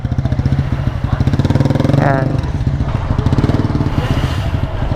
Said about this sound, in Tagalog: Ganda ng motor niya no.